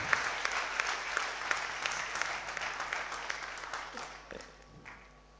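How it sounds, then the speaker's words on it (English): Audience applause at a national convention inauguration session in Ahmedabad, steady clapping from a sizable crowd that slowly tapers off with a few last claps. "So let's give a big round of applause."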